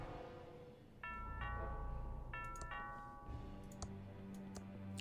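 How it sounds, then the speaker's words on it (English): A doorbell in the point-and-click game Thimbleweed Park chimes repeatedly in bright, quick ringing bursts over a soft background of game music, with faint clicks between the rings. "That sounds like the doorbell."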